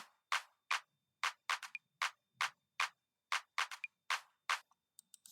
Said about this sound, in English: Now this clav loop, there are various loops, but the one I used here was this